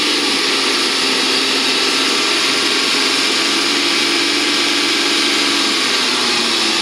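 A car engine held at a steady raised speed of around 2,000 RPM during alternator testing, a loud continuous drone with a constant pitch that stays even and close for the whole stretch.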